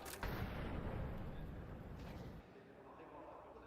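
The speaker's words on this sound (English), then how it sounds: "They hear a deagle" A Desert Eagle pistol fires in a Counter-Strike match, a sharp report at the start followed by a booming, fading tail, set against busy game ambience with a muffled shift near the end.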